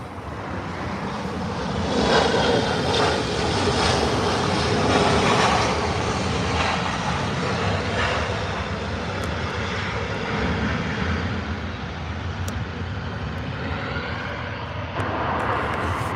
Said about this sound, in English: We received the Delta from Seattle. Followed by Asiana and then the Qantas, so back-to-back A380s to end the show.